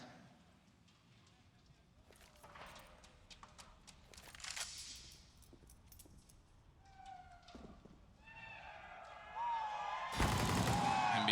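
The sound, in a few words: gunfire in the video game Counter-Strike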